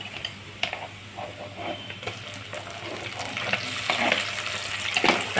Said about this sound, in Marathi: असं तेलात छान परतून घेणे.